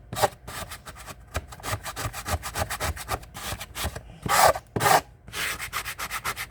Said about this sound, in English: This is a fingernail file, but I'm using it as a scraper.